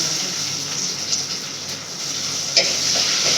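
Tomatoes fry for a fish curry, a soft, even sizzle heard up close, with a couple of brief stirring scrapes.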